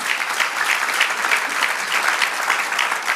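A church congregation claps steadily and loudly, a dense, sustained round of applause with no pauses.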